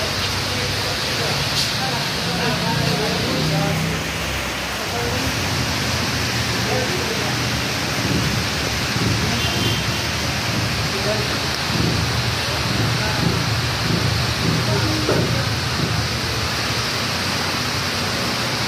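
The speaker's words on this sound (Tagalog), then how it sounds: "Malakas din ang ulan sa labas." Heavy rain pours steadily outside, a dense continuous wash of noise lasting throughout, loud and unbroken with faint voices underneath.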